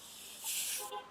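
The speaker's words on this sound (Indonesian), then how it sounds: "Itu saya jepret menggunakan setrika yang panas." A hot iron pressed onto curtain fabric gives a short, fairly faint burst of steam hiss that lasts about half a second and then fades, with no voices heard.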